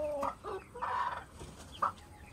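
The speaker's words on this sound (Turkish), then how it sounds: "İspenç tavuğumuza ve civcivimize de bakalım." İspenç hen and chick clucking close by, several short clucks and higher peeps in an irregular sequence over quiet background.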